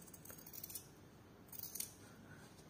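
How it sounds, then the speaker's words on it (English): Scissors trim the seam allowance on a sewn fabric kimono jacket, giving two short bursts of crisp snipping, quiet and close, with no talk over them. "So I will just trim down this inner portion"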